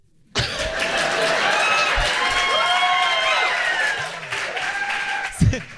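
Live podcast audience in Chicago bursting into applause, a loud dense patter of clapping with cheers and whoops rising over it, thinning out toward the end, with voices mixed in.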